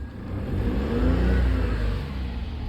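VW Up petrol engine cranking and catching, then a brief rev that swells and settles into a steady idle, close and fairly loud with no voices.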